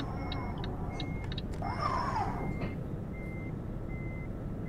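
Reversing beeps from a truck in Euro Truck Simulator 2, a run of short evenly spaced electronic pips over a steady engine rumble, with a brief whooshing pass partway through.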